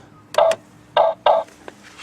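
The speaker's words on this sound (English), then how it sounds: "That's the doorbell." A radio-linked doorbell chimes in three short, bright tones, close and clear against a quiet room.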